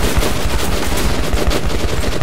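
Rapid, dense gunfire from the video game Metro Redux, loud and continuous bursts of automatic shots with overlapping reports and no talking.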